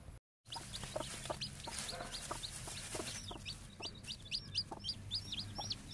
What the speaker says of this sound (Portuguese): Os primeiros cinco pintinhos que nasceram da galinha mesmo, né?